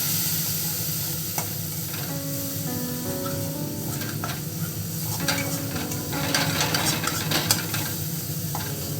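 A spoon stirs chili paste, garlic paste and turmeric frying in a pan, the steady sizzle and hiss running throughout with scattered scraping clicks and rattles of the utensil against the pan.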